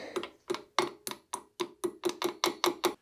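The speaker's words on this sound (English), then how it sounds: "Tap it into position." Part tapped into position on a KitchenAid stand mixer with a hammer, about a dozen sharp close metallic knocks in a fairly steady rhythm, quickening toward the end, with no talk.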